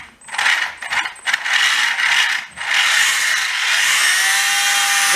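A Fy03h RC car with an upgraded motor whines loudly at full power, revving in a few short bursts before holding a sustained, rising high-pitched motor scream.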